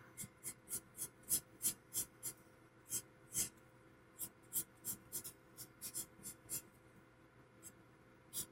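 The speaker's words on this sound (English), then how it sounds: "And I'm just doing sort of rough strokes. Which is really all the chisel nib is capable of anyway," Spectrum Noir alcohol marker's chisel nib scratching rough strokes across paper, a quick irregular series of short, crisp scrapes, close and quiet, with brief pauses between clusters.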